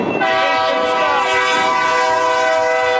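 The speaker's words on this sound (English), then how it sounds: "here comes the train" A freight train passes close by, its horn blaring loud and sustained over the continuous rumble and rattle of rail cars, with no talking.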